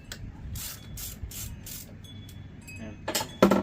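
Ratchet wrench with a socket working loose an old spark plug on a Honda engine: a series of quick, sharp clicking bursts with metallic clinks between them, close up and moderately loud, with no talking.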